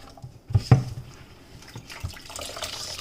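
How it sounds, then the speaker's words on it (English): Water poured onto grated coconut in a kitchen, a couple of quick splashes and a short trickle standing alone against a quiet background, close and fairly soft. "I'm going to add a little more water."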